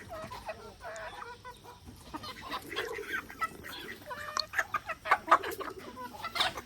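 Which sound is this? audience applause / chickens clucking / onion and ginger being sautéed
chickens clucking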